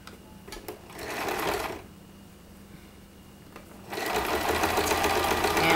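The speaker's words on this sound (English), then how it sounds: "then I'm sewing very close to the edge there" A sewing machine stitches a zippered tote close to the edge, running in two steady, close-up bursts separated by a brief pause.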